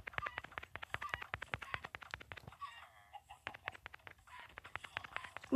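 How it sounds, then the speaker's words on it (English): Rapid clucking of many chickens in a video game, dense and close, with a brief lull midway before the clucks pick up again; no talking. "It spawns a bunch of chickens."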